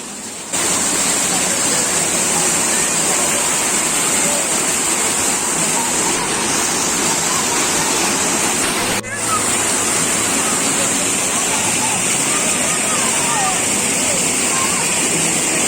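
Water from a spring-fed stream on a hiking trail in Islamabad rushes steadily, a continuous loud broadband roar like a small waterfall that runs throughout.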